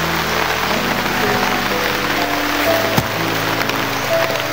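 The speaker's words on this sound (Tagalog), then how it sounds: "Ito ngayon, umuulan pa." Rain pours as a steady, loud hiss, with low humming tones running beneath it and a single sharp knock near the middle.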